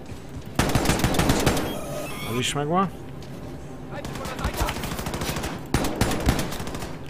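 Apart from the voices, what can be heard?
gunfire in the video game Wolfenstein II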